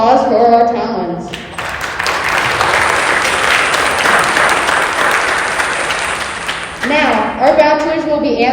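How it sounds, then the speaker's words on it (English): Audience applause at a high school bachelor pageant, a loud, dense burst of clapping from a crowd that swells and holds for about five seconds, with a voice speaking before it begins and again as it fades. "let's have one last round of applause for our talents."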